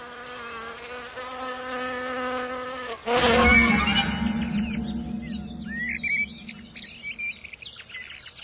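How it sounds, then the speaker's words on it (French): Honey bees buzz steadily in a rural Galician honey-producing area, a continuous insect drone that swells louder about three seconds in, with bird chirps scattered over it and no voices. "Les abeilles sont le principal agent de pollinisation des plantes."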